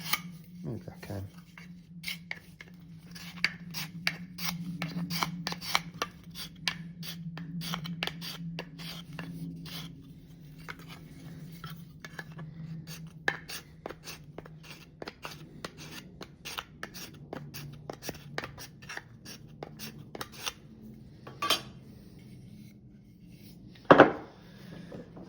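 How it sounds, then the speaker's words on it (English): A steel chisel pares and cleans up the inside of an old wooden hand plane. Steady, close scraping strokes repeat over a low hum, with one sharp knock near the end. "I'm probably going to have to come in here anyway in a minute with a chisel and clean up"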